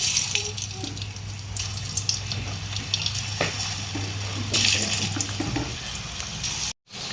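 Cabbage Manchurian balls dropped one by one into hot oil on a gas stove, a steady close sizzle and bubbling frying sound with small splashes and clinks, briefly cut off near the end.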